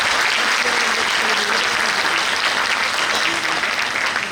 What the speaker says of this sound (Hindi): जोरदार तालियां आप लोग बजाइए